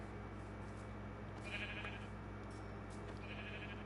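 Sheep bleat softly in Minecraft, with a couple of short, thin cries rising over a steady low hum, faint and fairly distant.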